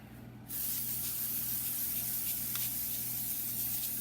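Cooking oil sprayed over tortilla chips spread on a pan: a steady, close hiss that starts suddenly and keeps going without a break for several seconds.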